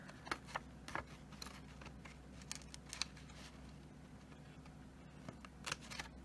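Scissors snip out small paper tabs from a mug template, a series of soft, quick cuts in irregular bursts close by, faint over a steady low background hum.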